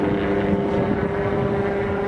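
Airplane flying circles overhead at an airshow, a steady propeller drone with engine tone holding fairly loud and even throughout, no talking.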